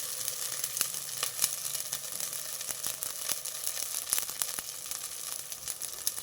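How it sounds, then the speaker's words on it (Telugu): Green chillies and masala frying in a pan for a leafy-greens pulao, giving a continuous close sizzle scattered with sharp crackles and pops. "పచ్చిమిర్చి ఆ మసాలా అంతా వేగిపోయింది"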